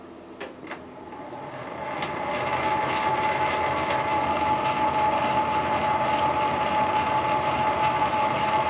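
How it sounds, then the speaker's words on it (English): Metal lathe powering up forward and running steadily while cutting a screw thread, a brief clunk at the start, then a rising, constant mechanical whir with a sustained high whine, close and fairly loud. "we'll start the lathe up forward"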